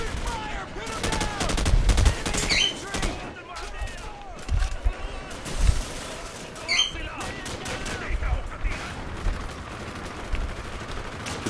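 Gunfire in Call of Duty 4 crackles in repeated bursts and scattered single shots, some near and loud, others farther off, with the commentator's voice coming and going among them.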